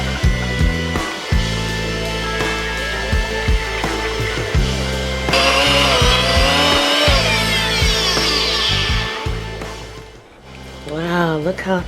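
A blender motor whirs loudly and steadily as it purees soaked Irish sea moss with water into a thick gel, its pitch shifting as the load changes, with a voice speaking over it and a brief drop near the end.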